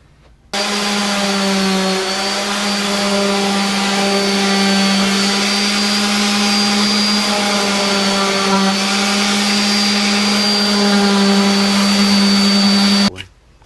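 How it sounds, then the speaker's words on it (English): Power sander working laminate flooring edges aboard a 1980 Chris Craft Commander 410 boat, a loud steady motor whine with strong tonal hum running continuously for about thirteen seconds, starting and stopping abruptly. "So we're going to sand these edges and then connect our dots."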